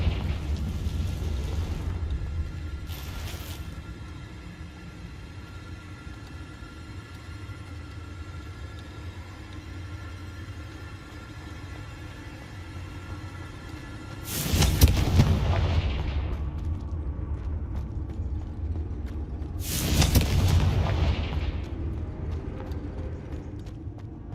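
Two big blasting-spell explosions in the video game Hogwarts Legacy, each a sudden loud boom with a rumbling decay, set apart by several seconds over a steady low ambient drone.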